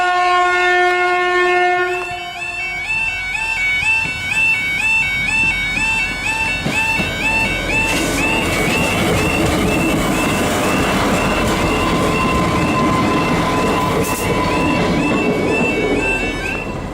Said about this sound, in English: This is the 11:34 departure from Dingwall, going from Inverness to Kyle of Lochalsh.